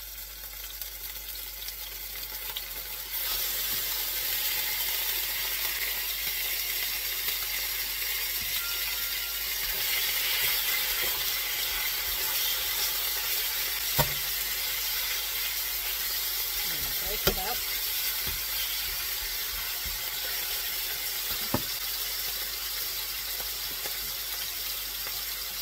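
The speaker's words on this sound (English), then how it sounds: "I am flinging some water into the pan and it's sizzling" Elk chorizo sizzling in a hot oiled frying pan, with water flung in, a steady crackling hiss with a few sharp clicks and pops, fairly close.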